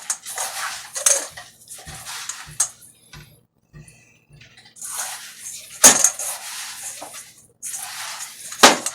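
Salisbury steak meat mixture with salt and pepper being mixed in a bowl, heard as irregular clinks, taps and soft squelchy scrapes of utensil against the bowl, starting and stopping with quiet gaps.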